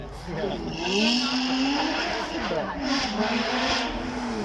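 A black Lotus Exige 430 Cup with a supercharged 3.5 V6 passes on a demonstration run at a supercar weekend, its engine droning and rising in pitch over steady crowd and background noise for several seconds.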